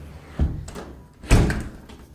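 An apartment door swings shut in two thuds, a light knock followed by a heavier slam, close by in a quiet room.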